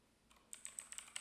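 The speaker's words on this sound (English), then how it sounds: "So I'm just gonna type in Near." A computer keyboard clicks in a quick run of soft keystrokes, close and faint, a short rhythmic burst of typing with no voice.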